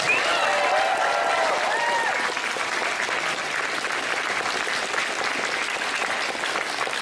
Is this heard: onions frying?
no